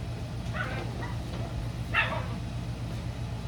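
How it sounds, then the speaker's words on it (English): Dogs make a few faint little yips and whimpers indoors, soft short bursts heard at a distance over a low steady hum. "So I can hear the dogs making little noises"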